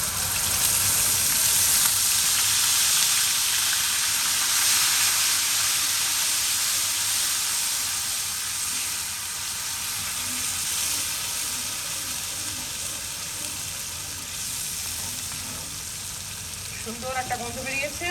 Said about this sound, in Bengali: পেঁয়াজ, রসুন, আদা বাটা দিয়ে দিচ্ছি।